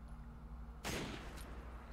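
A single sharp gunshot burst from Resident Evil 5 gameplay cracks out against a quiet humming background, with a faint tail and a smaller follow-up pop.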